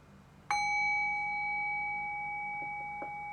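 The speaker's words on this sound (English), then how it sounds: "I'll ring the bell to close us out." Meditation bell struck once to close a dharma talk, a clear bright ring that sustains and slowly fades in a quiet room, with faint small knocks near the end.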